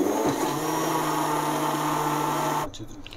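A blender grinds kulfi batter, a loud steady motor whir with a constant hum that runs close-up and unbroken for most of the stretch, then cuts off abruptly near the end, leaving faint room noise.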